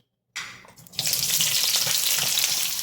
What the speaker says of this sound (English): Preparing this, I'm gonna add my onions first.